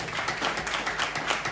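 An audience claps at a live awards event for religious ambassadors and eminent icons, producing steady, dense, fairly quiet applause that runs evenly throughout with no voices standing out.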